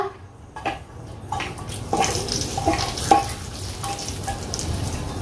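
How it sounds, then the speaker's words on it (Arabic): Nuts sizzle and crackle in hot oil in a pan, giving a steady frying hiss with scattered pops and stirring clatter, fairly close and uninterrupted by speech. "سامعين الطشه؟"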